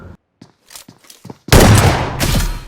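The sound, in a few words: gunfire from the video game BGMI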